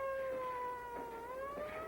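A faint siren gives a steady, drawn-out wail whose pitch slowly rises and falls over about two seconds.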